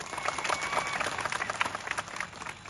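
An audience at a tribal leader's birth anniversary gathering claps together, dense crowd applause heard from a distance, fairly even and sustained with no single claps standing out.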